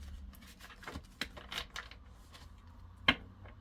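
Tarot del Fuego cards being shuffled by hand at a reading table lit by a candle, giving soft papery riffles and flicks at a moderate level, with one sharp, louder snap near the end.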